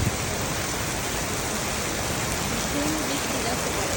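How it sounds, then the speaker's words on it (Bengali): Heavy rain pours down steadily in Singapore, a dense, unbroken hiss that stays loud and even from start to finish, with no voices over it. "অনেক জোরে বৃষ্টি হচ্ছে, আমার বৃষ্টির শব্দ খুবই ভালো লাগে।"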